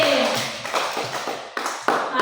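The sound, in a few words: children clapping in a classroom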